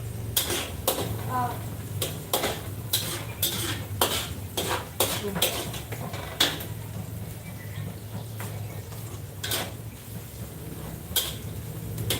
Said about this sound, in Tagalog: haluin ko muna to